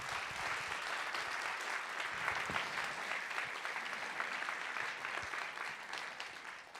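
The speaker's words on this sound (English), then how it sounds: "let's hear a round of applause for all our performers this evening." An audience claps and applauds steadily after a high school band and orchestra concert, a dense, sustained wash of hand claps from a large crowd, fairly distant.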